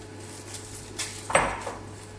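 Instant pork noodles going into a bowl, with a few light dish and cutlery clinks spread over a couple of seconds, one sharper clatter standing out in the middle against a quiet room.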